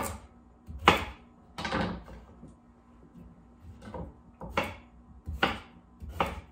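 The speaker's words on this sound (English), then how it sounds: "I'm gonna go ahead and cut up some carrots. I'm just gonna cut them into chunks." Carrots being chopped into chunks with a knife on a cutting board in a home kitchen: sharp, irregular thunks spaced a second or so apart, close and loud, with quiet pauses between strokes.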